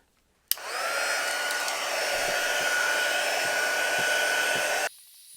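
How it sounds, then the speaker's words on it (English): A handheld heat gun blows over 3D puff foam embroidery made on a Janome 500E single-needle machine. It gives a loud, steady whooshing roar that starts abruptly, holds for about four seconds and then cuts off. "this is the heat gun I'm going to use"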